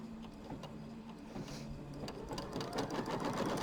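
A home embroidery machine sews a placement line in white thread, its needle whirring in a fast steady rhythm that grows slightly louder, close by with no talk.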